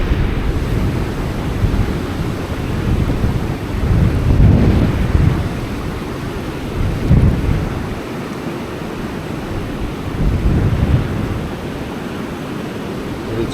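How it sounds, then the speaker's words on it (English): Strong gusting wind roars at a dam on the Fox River, a steady low rumble across the microphone that swells into heavier buffeting gusts every few seconds. "so that wind doesn't cause me as much trouble"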